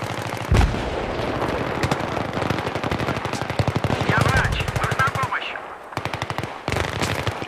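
Automatic gunfire in a Battlefield 3 firefight: rapid, loud bursts of shots with short gaps and a deep blast near the start, going on through the whole stretch, with faint voices now and then.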